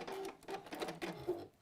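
A home sewing machine running a short programmed three-step stitch while a textile bag is sewn, giving a few quick bursts of rapid mechanical whirring and clicking that stop and start, close and fairly quiet.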